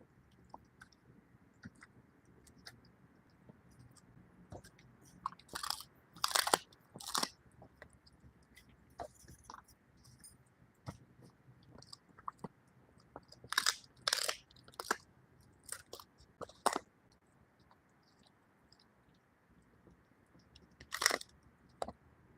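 Crunchy chewing close to the mic, in irregular bursts of loud bites and crunches separated by quieter stretches, with no talking.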